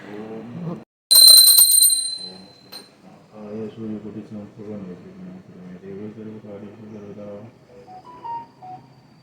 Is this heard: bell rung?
yes